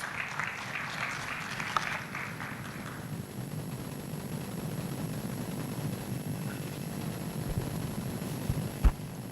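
Audience applause at the 4th Africa-Asia Youth Forum 2025, greeting a young Member of Parliament: a few seconds of moderate clapping that fades out early, leaving a low hall rumble and scattered faint knocks.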